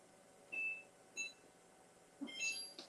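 A kitchen timer being set gives three short electronic beeps at irregular spacing, close but quiet against a faint room background, with no voices.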